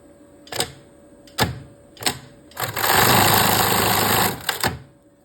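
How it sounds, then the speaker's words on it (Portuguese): A sewing machine stitches the strap of a pair of women's panties with three short whirring bursts, then one longer steady run before a final quick burst, all close and without talk. "eu prendo aqui e vou costurar agora aqui, ó. Bem aqui, igual do outro lado."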